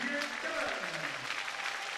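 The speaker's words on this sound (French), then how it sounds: "Et les applaudissements de Julien Cabane" Applause from a large stadium crowd at a rugby match rolls on as a steady wash of clapping, while a voice commentates over it in French.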